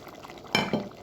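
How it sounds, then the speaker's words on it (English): Crayfish are tipped into a pot of cooking corn chaff porridge, giving a brief clatter and splash against the pot, close and loud after a quiet kitchen background, with no talking. "So I am pouring in the crayfish"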